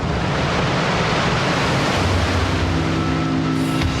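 Ocean waves break near cliffs at Bondi, a loud continuous wash of surf and wind with a faint low drone entering partway through.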